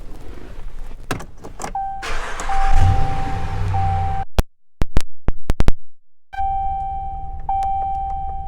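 The power windows of a 2019 RAM 1500 Classic SLT whir in bursts of motor hum with a steady whine. Sharp clicks and thuds follow, and one short stretch of near silence comes in between.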